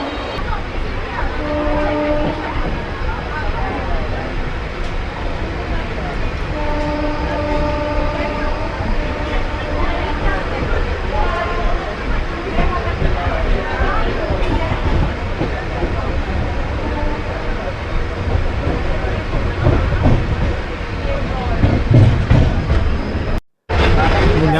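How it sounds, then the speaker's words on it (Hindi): The 14505 Nangal Dam Express rolls steadily after leaving Ludhiana Junction, a loud continuous rumble and clatter of wheels with repeated horn blasts sounding through the run. "Train number 14505 Nangal dam express."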